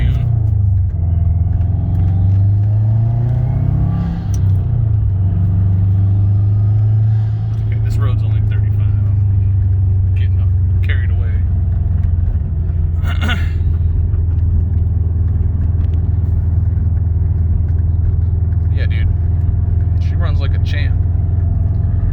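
A 2005 Subaru Legacy GT Limited turbo with about 115,000 miles idles with a steady low rumble, its pitch rising briefly early on as it is revved, and someone talks intermittently over the running engine.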